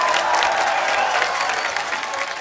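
Studio audience at a Hindi comedy talk show anniversary celebration breaks into loud, sustained applause, a dense clatter of clapping hands with some cheering, steady throughout.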